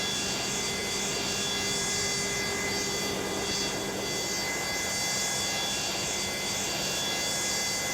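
Boeing 727-200F jet engine in a simulated flight game, spooling up with a steady broadband roar and faint high whine, continuous and loud throughout with no voices.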